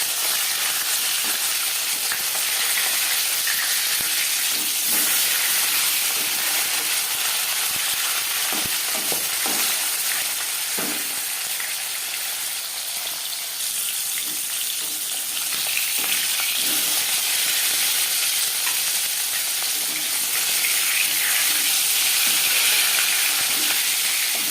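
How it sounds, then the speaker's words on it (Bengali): A piece of tilapia fries in hot oil with a continuous loud, dense sizzle and hiss, broken by occasional utensil scrapes and pops, heard close up without speech. "মাছ এক পিস ভাজা হয়ে গেছে, অপর পিস তুলতে দেবো"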